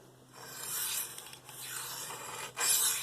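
A Spyderco Paramilitary 2 knife with an S30V steel blade being sharpened on a DMT diamond stone, heard as close, steady rasping strokes of steel across the abrasive, with a short pause before a louder final stroke.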